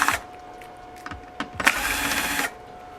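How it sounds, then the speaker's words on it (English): A power screwdriver or drill backs screws out of the mainboard of a Sony 4K XBR-65X850E television, giving short whirring bursts and then one longer run of about a second, close and fairly loud, with faint clicks between. "Next step is going to be unscrewing some of the screws."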